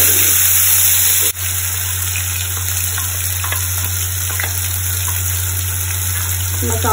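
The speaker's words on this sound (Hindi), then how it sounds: "इसमें हम ये मसाला फ्राई करेंगे।" Masala spice paste fries in hot mustard oil for a stuffed sponge gourd dish. It makes a steady, loud, close sizzle that never breaks, with a constant background hum underneath.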